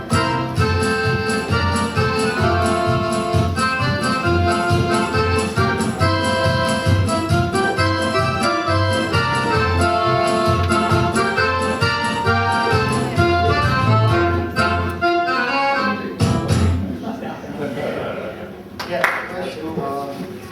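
Upbeat music plays with a steady drum beat driving the rhythm under melodic instruments, then fades into softer sounds near the end.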